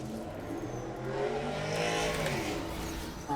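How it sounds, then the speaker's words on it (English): A loud car revving outside, heard from indoors as a continuous engine roar that rises and swells midway, fairly distant and muffled, with no talk over it. "loud car people are outside."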